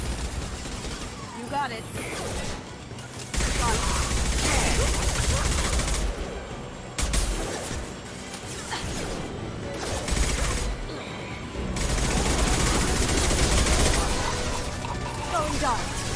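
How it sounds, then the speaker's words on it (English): Heavy sustained gunfire in the video game Mass Effect 2 roars in dense, loud bursts with brief pauses. A voice speaks briefly among the shots. "Taking heavy fire."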